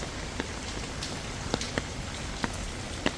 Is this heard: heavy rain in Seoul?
yes